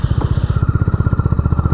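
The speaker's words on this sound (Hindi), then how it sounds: "आज मैं जा रहा हूँ अपनी होंडा हाइनेस CB350 पे एक छोटी सी राइड पे।" A Honda Highness CB350 motorcycle engine runs with a deep, steady, rapid thumping pulse, loud and close, with no voices over it.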